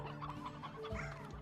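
Hens in the game Slime Rancher cluck in quick short bursts, a few overlapping fowl calls close by at low volume.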